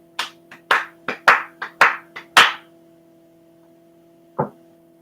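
A young girl claps her hands at a music session, about eight sharp, close claps in an uneven burst, then a pause and one final clap, with a steady electrical hum underneath.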